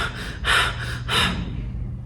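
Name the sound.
heavy breathing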